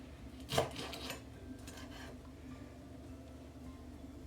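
A sharp knife scrapes and cuts through a mackerel in a short, quiet burst of rasping strokes near the start, followed by faint handling sounds.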